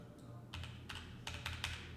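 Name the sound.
pressing a key on a computer keyboard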